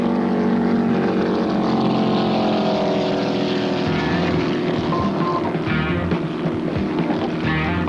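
Offshore racing powerboat engines, including Cigarette boats, roar loudly and continuously during a 1975 San Francisco race, a dense, steady drone with no speech over it.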